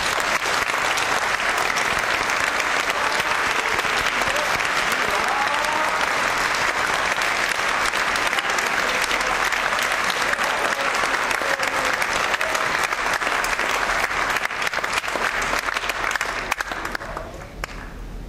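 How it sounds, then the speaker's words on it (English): Sustained audience applause for new National Honor Society inductees at an induction ceremony, loud and steady clapping from a full room with no talk, fading slightly at the end. "Can we have a round of applause for our new inductees?"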